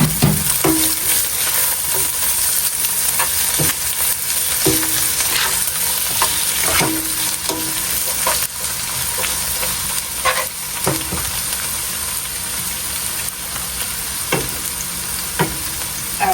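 Oil sizzles in a cooking pot for a Jamaican crab dish while a utensil gives a quick stir, with repeated scraping and clinking strokes over a constant close frying hiss and no speech.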